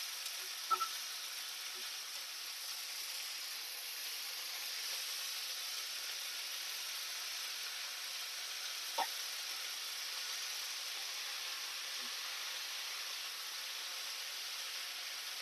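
Cabbage and drumstick leaves sizzle steadily in a frying pan, a continuous soft hiss of cooking with a couple of faint clicks near the start and middle.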